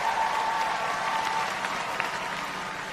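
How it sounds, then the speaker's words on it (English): Large outdoor crowd at a university commencement ceremony applauding steadily after the national anthem, a dense, even wash of clapping with faint cheers throughout. "Let's give another wonderful round of applause for that amazing singing of the national anthem."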